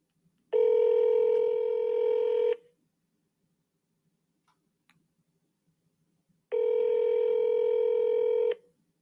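Two long, steady phone ringback tones about four seconds apart as an outgoing call rings unanswered, loud and clear with near silence between them.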